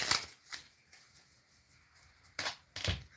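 A deck of cards shuffled close up in a quiet room: a few brisk riffling bursts with short pauses between them, soft rather than loud.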